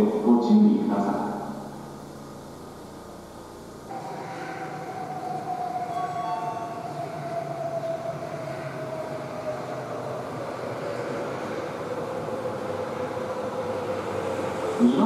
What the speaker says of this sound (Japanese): まもなく2番ホームに到着する電車は当駅より搬送車となります。